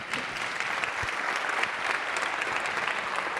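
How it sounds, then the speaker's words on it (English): An audience at a Fort Worth entrepreneurship event bursts into dense, sustained applause, many hands clapping steadily and evenly for the full stretch, loud and close with a faint crowd murmur underneath. "So let's give Ian another big round of applause."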